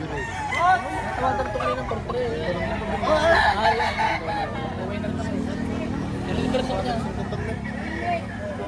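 Many chickens clucking and roosters crowing at a livestock auction market in Lipa, Batangas, over a busy crowd murmur, with people talking throughout.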